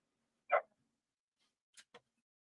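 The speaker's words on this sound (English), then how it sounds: "My dog wants in." A dog barks outside, wanting to be let in: one sharp bark, then a pause and two quick, fainter barks, all fairly distant in an otherwise quiet room.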